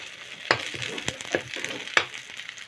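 Garlic and onion sautéing in a pan make a low sizzle broken by several sharp clacks and scrapes of a utensil against the pan, with no one talking.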